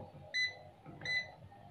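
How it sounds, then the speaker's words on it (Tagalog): A multimeter's continuity buzzer beeping while checking a Sharp CRT TV board with a blinking red indicator: two short, sharp electronic beeps about 0.7 seconds apart over a faint low hum. "Buzzer. Buzzer type tayo."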